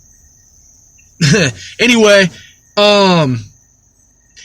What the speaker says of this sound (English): you can hear the fucking cicadas, right?